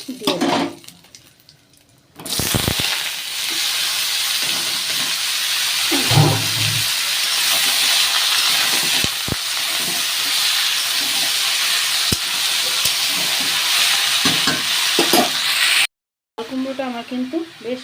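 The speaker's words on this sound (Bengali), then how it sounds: "কুমড়োটা আমার কিন্তু বেশ ভাজা ভাজা হয়ে গেছে" Ash gourd pieces fry in a pan with panch phoron, bay leaf and dried chili, giving a steady loud sizzle and hiss that runs almost throughout, with occasional utensil knocks and a voice talking over it.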